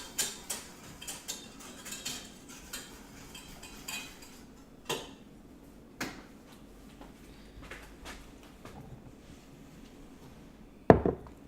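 A mixture whisked in a bowl gives a close run of rhythmic taps and clinks of the whisk against the bowl, steady at first and then sparser, ending in one louder knock.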